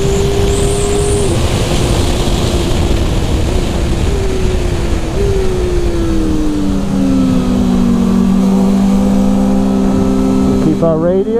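A 2023 Kawasaki ZX400RR four-cylinder sport bike on a racetrack pulls hard in third gear, its high-pitched engine whine climbing steadily from close onboard before easing and shifting near the end, with a voice speaking over it.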